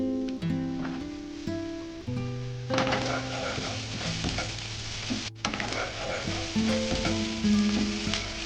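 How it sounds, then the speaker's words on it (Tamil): Chicken rice sizzling and frying in a pan in an animated kitchen scene, a steady hiss running throughout alongside stirring clatter and tonal musical notes. "ஆவி பறக்க காரசாரமா சிக்கன் ரைஸ் சமைச்சிட்டு இருக்கா"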